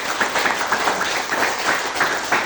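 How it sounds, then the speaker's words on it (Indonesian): Classroom applause for a student in a history lesson, a quick, uneven patter of clapping hands from a small group, moderately loud and steady throughout. "Kita berikan tepuk tangan sekali lagi"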